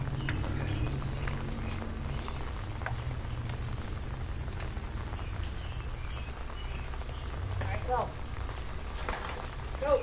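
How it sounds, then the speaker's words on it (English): Heavy rain falling in Mooresville, North Carolina, near Lake Norman, a steady soft patter on surfaces with a low rumble beneath. It runs throughout while people talk faintly nearby. "It's raining."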